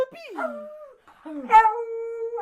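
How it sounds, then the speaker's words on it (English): A pet dog named Banks lets out a drawn-out, wavering howl close by, in two long rising-and-falling phrases, with a person speaking briefly over it. "So this is our dog, Banks."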